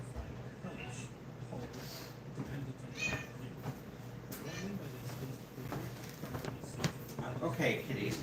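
Cats meow in short, scattered calls indoors, heard faintly beneath a person talking and some background household noise.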